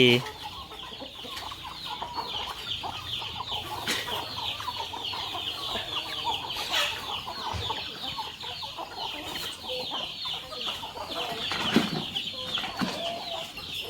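Fighting chickens cluck and call steadily from nearby, a busy layered chorus of clucks running throughout, with faint voices in the background.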